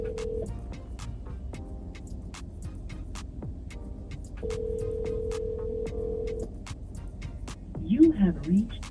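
Telephone ringback tones sound through a call before it reaches voicemail: a short tone, then a longer one a few seconds later, over a quiet background. A brief burst of other sound follows at the end.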